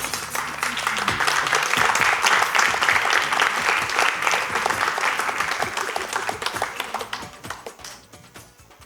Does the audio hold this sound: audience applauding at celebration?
yes